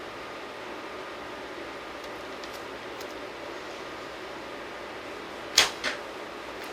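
Arrow loosed from a Howard Hill American-style longbow: a quiet outdoor hiss, then a sharp snap of release followed a moment later by a second, softer thud.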